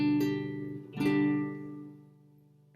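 Guitar chord fretted with the ring and pinky fingers, strummed twice and left to ring out, with a third strum starting at the end.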